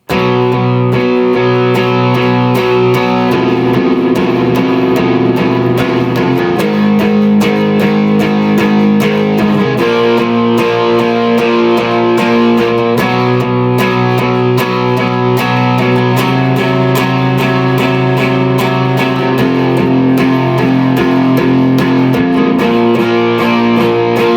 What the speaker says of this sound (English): Some power chords, they sound like this.